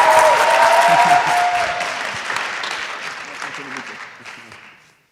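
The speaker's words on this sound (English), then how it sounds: "So please, big round of applause for Ursify joining us on stage." Loud applause fills a startup competition final gala as a team joins the stage, dense clapping with some cheering that gradually fades out over a few seconds.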